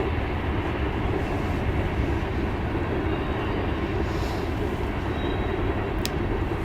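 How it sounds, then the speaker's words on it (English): A train runs on rails with a continuous, fairly loud, low rumble and steady rolling noise, with no voices. "We're all just kind of chilling to the train at the moment."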